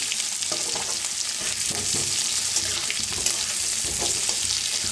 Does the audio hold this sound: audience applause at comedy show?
no